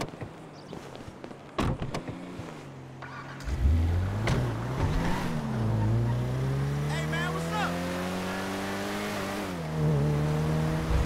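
A car in a video game drives and revs, its engine note climbing and falling through several surges after a few sharp knocks, while game characters talk over it.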